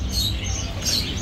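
Caged birds at an old bridge animal and bird market in Baghdad, including African doves, chirp and twitter in a dense, steady wash of small calls, with no one speaking.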